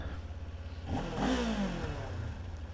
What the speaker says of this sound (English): you can just hear the engine noise